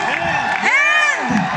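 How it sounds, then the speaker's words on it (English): A large audience cheers and whoops at a Guinness World Record event for the largest Indian cinematic music band, with a loud, sustained wash of shouting voices and a few high, rising whoops cutting through. "Everybody, cheer!"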